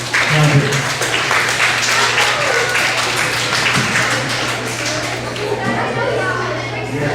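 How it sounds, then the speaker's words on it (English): Audience of students clapping at a school assembly, a loud dense burst of applause that carries on steadily and slowly fades, with children's voices and chatter mixed in underneath. "give these guys a round of applause too"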